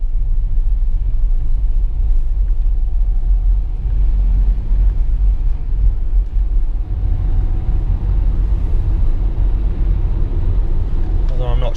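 A 20-year-old Renault Safrane car on the move, a loud, continuous low engine and road rumble from inside the cabin that swells slightly toward the end.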